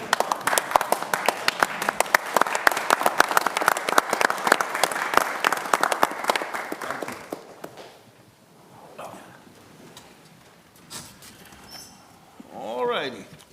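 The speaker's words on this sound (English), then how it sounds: "Let's stand up and clap." Meeting audience at a county commission session breaking into loud, sustained applause for several seconds, then fading into room murmur, shuffling and quiet voices.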